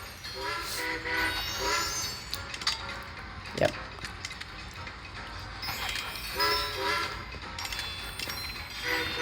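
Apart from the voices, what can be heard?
train horns and trains passing in the video game Train Conductor World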